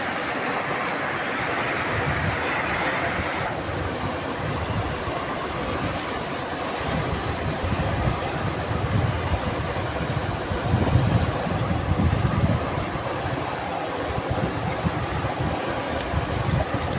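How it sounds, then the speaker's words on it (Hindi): Fast rushing flood water pouring over stones, a dense, steady roar of broadband water noise close to the microphone with gusts of wind, continuous throughout with no talk. "अभी पानी बहुत तेज़ हो चुका है।"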